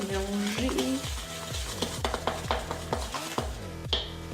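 A spoon works chocolate chip cookie dough in a bowl with steady, rhythmic scraping strokes, close and fairly quiet, repeating about twice per second.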